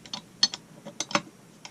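Quick ratcheting clicks in short bursts as bolts are tightened in a diagonal pattern, close and fairly quiet with no talking.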